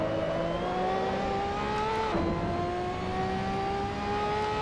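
Race car engine in the Assetto Corsa racing game, a steady droning whine that climbs in pitch, dips briefly as a gear changes and then climbs again, moderately loud with no voices.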